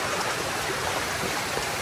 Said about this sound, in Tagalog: agos ng tubig or daloy ng tubig sa dyan sa kanal